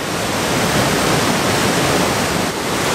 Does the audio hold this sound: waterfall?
yes